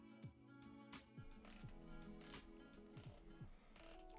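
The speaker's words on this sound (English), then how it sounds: "It has a bi-directional 60-click bezel," A bi-directional 60-click bezel on an inexpensive automatic GMT wristwatch ratchets through a rapid series of close, crisp mechanical clicks, turned in short bursts with a slightly rough, old-school feel and no talking.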